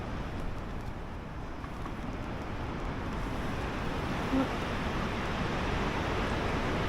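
Steady rushing wind buffets a three-season tent on a sub-zero wild camp in Northumberland, a continuous broadband roar with a slight swell partway through, no voices.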